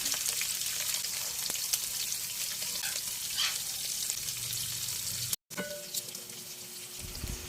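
Dried fish (tuyo) frying in hot oil in a kawali, a dense, continuous close sizzle with a few faint clicks and a brief dropout, no voices.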